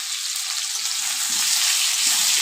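Potatoes with turmeric and salt sizzle steadily in a frying pan, a bright constant hiss with soft stirring bumps underneath, close and without speech.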